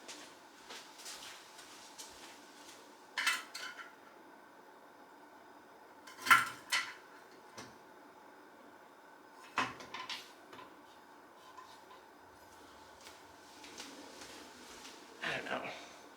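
Drawers and cupboards open and close in a home kitchen while someone hunts for a bigger knife to cut a homegrown sugar pie pumpkin, giving a few sharp knocks and rattles spaced out between quiet stretches, with a voice talking now and then.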